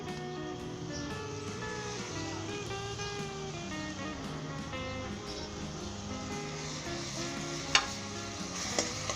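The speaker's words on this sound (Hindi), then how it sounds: "फ्राई कर लें 1 से 2 मिनट के लिए" Minced garlic and ginger sizzle steadily in about three tablespoons of butter over medium heat, with a soft, continuous frying hiss and occasional scraping clicks as the spoon stirs, close by under faint background music.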